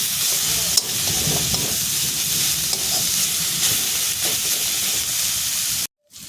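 Dheki greens (fiddlehead fern) and shrimp sizzle steadily in a frying pan while a utensil stirs and scrapes through them, a loud, continuous hiss that cuts off abruptly near the end.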